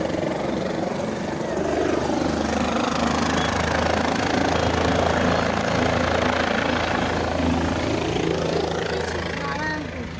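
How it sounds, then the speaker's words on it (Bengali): Helicopter at a helipad in Guptkashi, giving a steady, loud rotor and engine drone that holds for the whole stretch with faint voices underneath. "हेलीकॉप्टर उड़ रहा है"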